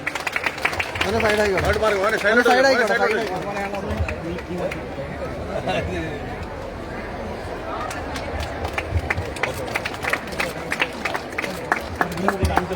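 An audience applauds at an award ceremony during a school farming harvest festival, with a swell of clapping and crowd noise at the start that thins into scattered claps under chatter and an announcer's voice.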